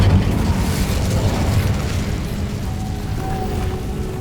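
Incendio fire spell going off in Hogwarts Legacy, a sustained roaring, rumbling blast of flame that holds steady and loud throughout, with a faint tonal ring near the end.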